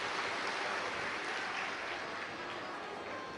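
Dense, steady applause from a large crowd at a Shiv Mahapuran katha, broad continuous clapping that fills the space without breaks.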